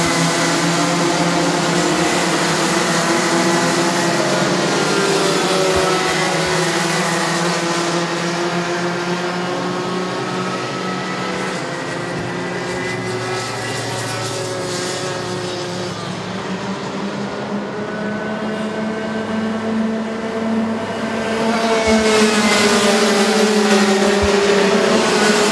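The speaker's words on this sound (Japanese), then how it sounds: "イサージ秀隆のマシンが最終コーナーリスタートを切りました" Racing karts in a MAX Lights qualifying heat of the SL Mizunami series pass through the final corner and restart, a steady loud engine drone with shifting pitch over 25 seconds, held close and continuous with no pauses.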